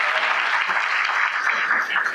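An audience at a Brazilian government ceremony bursts into sustained, dense applause for municipal representatives, many hands clapping steadily and filling the hall, with some faint voices mixed in.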